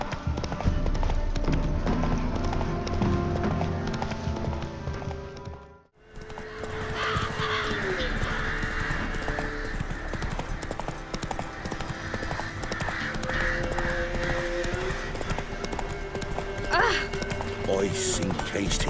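Roach the horse gallops through The Witcher 3, hooves clip-clopping in a steady run, with crows cawing around; a loud scene cut partway through shifts into music and ambience under the hoofbeats.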